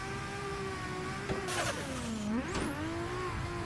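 In a drifting sim game, a car engine revs hard and rises in pitch on a clutch kick, while a tire squeal breaks out briefly, all close and steady with no talking.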